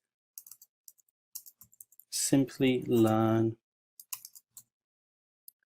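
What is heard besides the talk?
typing a git command on a computer keyboard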